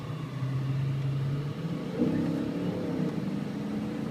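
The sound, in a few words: 1995 Mercedes-Benz S500 accelerating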